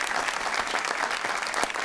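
Studio audience on a Pakistani television talk show claps in a steady, dense burst of applause, close and even throughout, with no voices over it.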